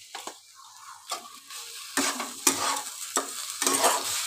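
A spoon stirs a pan of green tomato and potato curry, giving scraping strokes every half second or so over a faint sizzle, close and fairly quiet.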